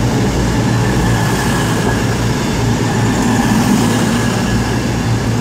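Class 221 unit 221141 passing at Cheltenham Spa station, a loud, steady rumble of a train rolling close by with continuous wheel and engine noise and no pauses.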